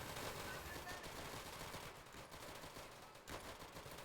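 Video game gunfire in Easy Red 2, a World War II shooter, as a dense, rapid burst of shots fading slightly after a couple of seconds, then a sharp report near the end, mid-distance and fairly quiet.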